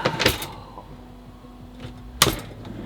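A drawer latch in a camper van snaps shut with a sharp click, followed by a quiet gap with a faint hum and then a second distinct click.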